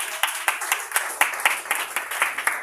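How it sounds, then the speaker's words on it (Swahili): A church congregation claps hands together in a steady, rhythmic pattern of quick claps, close and fairly loud, with no talking over it. "Piga Bwana makofi."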